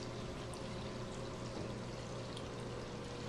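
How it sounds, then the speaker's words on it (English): Water pumped into the top of a working model of a Speece cone superoxygenation system, heard as a steady, continuous pouring and rushing of water with a low pump hum beneath, constant and unbroken throughout. "A side stream is drawn from a water reservoir or sewer line and pumped into the top of the cone where gaseous oxygen is introduced."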